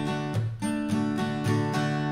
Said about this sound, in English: There's just one strumming pattern that we're going to use throughout the entire song, and it sounds like this.